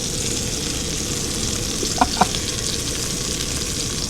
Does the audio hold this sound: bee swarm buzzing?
no